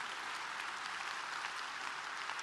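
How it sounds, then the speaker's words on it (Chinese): A crowd in a conference hall claps warmly at a Malaysian regional leaders' training event, a continuous even wash of hands with no talk, moderately distant and unbroken. "我们再给我们的 Mr. Law 庆祝一个热烈掌声"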